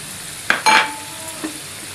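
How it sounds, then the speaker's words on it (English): Garlic fries in hot oil until crispy, with a faint sizzle under a couple of short scraping stirs and a light clink of a utensil against the pan, close and quiet. "Here we are tempering our garlic till crispy"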